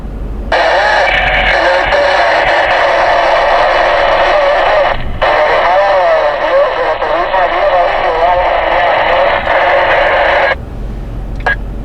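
CB radio scanning channels and landing on a transmission on channel 9: loud, continuous hissing static with garbled radio chatter for about ten seconds, broken by a brief dropout midway, with no other voices.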